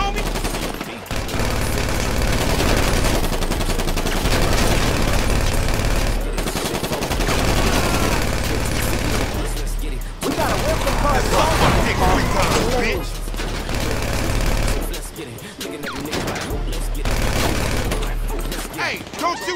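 Automatic weapon fire in GTA V, dense rapid bursts of gunshots with brief breaks, loud and continuous, with people talking over it.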